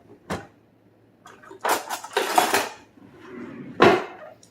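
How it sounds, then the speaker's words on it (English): Metal spatula and utensils clattering and scraping in a kitchen while a German chocolate cake is being frosted, with a few sharp clinks followed by busy rattling and one last clack. "let me grab a spatula"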